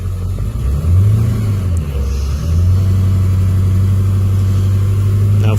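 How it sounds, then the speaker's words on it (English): A 2002 Ford F350 with the 7.3L engine and a bad alternator revs up from idle, a loud, close, deep rumble that rises and then settles into a steady, heavy drone. "And if I rev this up,"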